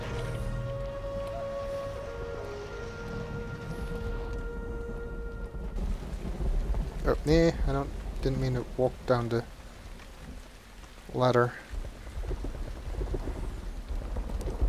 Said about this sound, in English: And it's raining in the desert.